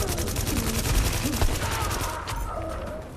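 Enemy automatic gunfire in The Division video game, a fast continuous rattle of shots that stays loud for a few seconds before easing, with voices speaking over it.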